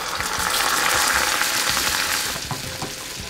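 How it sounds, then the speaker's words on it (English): Beans fry in a hot pan beside a Mexican chicken sandwich being made, giving a dense close crackling sizzle with light stirring scrapes, loud and steady throughout. "get some beans into the pan"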